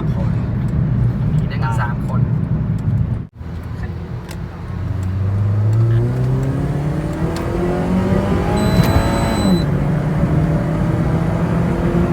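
A Honda Civic FD with a freely tuned cam and Mugen Type R kit revs up in a long rising climb, the engine note sweeping higher before dropping back, heard from inside the car under constant talk from the occupants.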